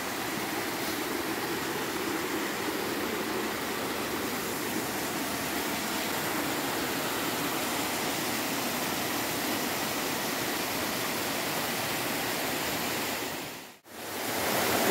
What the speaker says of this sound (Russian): И дальше будут спускаться водопады.